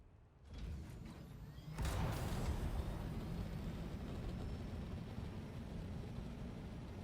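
An enemy copter in a desert combat video game flies off, a broad, steady roar of engine and rotor noise that swells after a couple of seconds and holds loud throughout.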